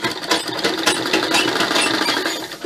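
A sewing machine runs steadily while stitching piping onto a suit, with a fast, dense mechanical rattle and a clear, continuous hum. Nobody speaks.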